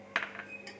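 Semolina being added into a mixer jar, a brief clinking rattle with a short second tick, close and fairly quiet.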